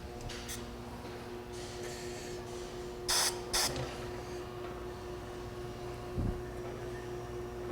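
Two short, sharp hisses of lubricant spray hit a locking roller, close and distinct over a steady low mechanical hum.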